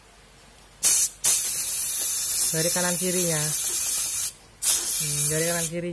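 Two sharp bursts of spray aimed at a motorcycle gear oil drain bolt, each a loud hiss lasting under a second, separated by several seconds of someone speaking close by.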